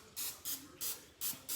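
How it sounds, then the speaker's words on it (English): Non-stick cooking spray is sprayed onto a baking dish in five short aerosol hisses, each burst evenly spaced, close and fairly quiet, with no talking. "I spray just a little non-stick spray on it."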